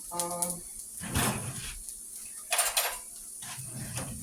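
Forks and other cutlery clink in a kitchen drawer while dehydrated hash browns cook, a few bright metallic rattles and knocks spaced out over several seconds, close by with no one speaking.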